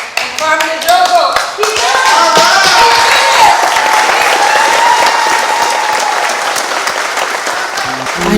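Audience applause at an awards ceremony honoring actors David Oyelowo and Carmen Ejogo, a dense steady clapping that swells quickly and holds strong throughout, with a voice speaking briefly over it near the start.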